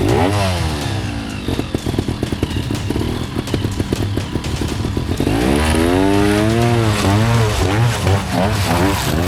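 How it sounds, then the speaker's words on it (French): Dirt motorcycle powering up a steep, slippery rocky slope toward a rock ledge in trial riding, its engine loud and close with rising and falling revs, sharp throttle bursts and mechanical clatter throughout. "Il faut bien plaquer la moto, il faut bien écraser pour garder de la vitesse et finir sur la barre rocheuse là-haut."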